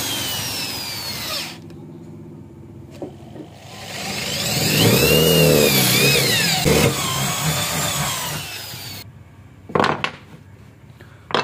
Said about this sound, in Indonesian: Kita bor menggunakan bor 10 mili juga sampai tembus.